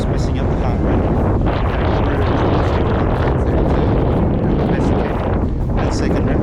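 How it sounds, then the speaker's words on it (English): Heavy wind buffets a microphone outdoors during interval running on a blustery day, a loud, continuous low roar and rumble that fills the whole stretch without letup. "I'm sure you've heard how windy it is through the microphone"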